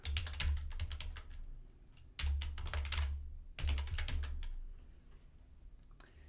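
Someone types a project name on a computer keyboard in quick, close clusters of soft key clicks with brief pauses between them, quiet and alone.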